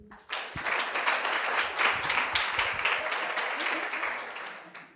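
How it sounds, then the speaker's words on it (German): An audience at a youth hackathon welcome event in Austria breaks into loud, sustained applause that swells quickly, holds for several seconds of dense clapping, then fades out at the end. "Applaus bitte."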